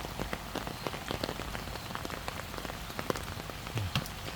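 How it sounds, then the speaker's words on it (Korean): Steady rain patters on a hard surface nearby, with many small scattered drops ticking over a constant soft hiss. "빗소리도 따박따박 나고"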